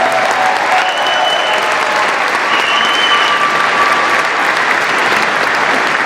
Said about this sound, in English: Could I get a round of applause, please, for my wife, Diana, the First Lady of Illinois?